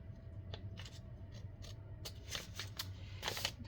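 Scissors cutting paper for a junk journal, a few quiet, crisp snips in short bursts at close range, with no talk.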